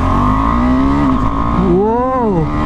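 A KTM Adventure 390 motorcycle with a quick shifter accelerates in first gear, its loud, close engine note climbing in pitch, dipping briefly, then rising and falling again with a strong rev.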